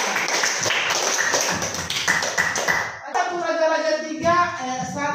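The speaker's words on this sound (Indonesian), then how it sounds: "Tepuk tangan untuk semuanya." Students clap in a classroom during a Catholic religious education lesson, a quick run of sharp, closely spaced claps lasting about three seconds, followed by a person speaking.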